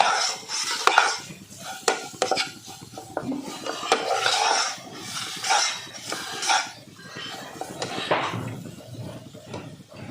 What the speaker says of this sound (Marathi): मंद आचेवरच हे परतून घ्यायचं आहे.